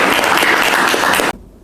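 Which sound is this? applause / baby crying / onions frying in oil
applause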